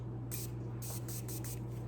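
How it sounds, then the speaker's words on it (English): Setting spray spritzed onto a makeup brush: five or six quick, close aerosol hisses in a short uneven burst over a steady low hum. "We will be using setting spray. Okay, so we're gonna shake her up, spritz her on the brush."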